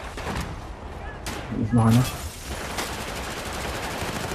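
Gunfire in the video game Battlefield 4, repeated shots and bursts under steady game noise, with a heavier blast in the middle while someone speaks briefly.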